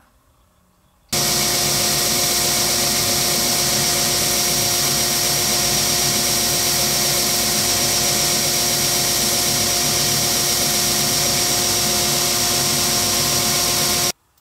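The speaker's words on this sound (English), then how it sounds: "take your pieces over to the sander once you mark them" A bench sander runs steadily and loudly for about thirteen seconds while small wood pieces are given a bevel, a constant whirring drone that starts abruptly and stops abruptly, with no talking.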